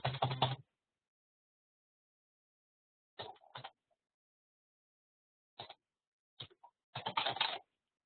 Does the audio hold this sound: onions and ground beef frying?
no